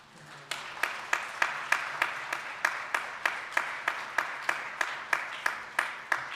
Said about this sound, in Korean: 여러분들 큰 박수로.